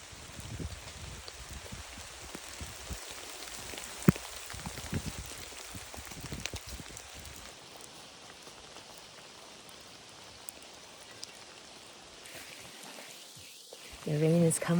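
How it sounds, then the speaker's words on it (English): Rain falls on a trail in Shenandoah National Park as a steady, soft hiss of drops. It stays faint and even throughout, with a few louder taps and a rustle at the end. "The rain is coming down."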